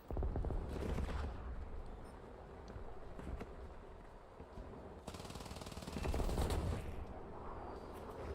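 An anti-tank gun firing in War Thunder comes through as rough bursts of rapid fire, one near the start and a louder stretch later, amid constant rumbling battle noise.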